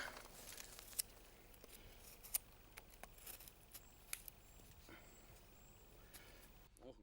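A bushcraft knife shaves thin curls from a stick of pine wood to make a feather stick. Faint scraping strokes are broken by scattered sharp clicks and ticks of the blade on the wood.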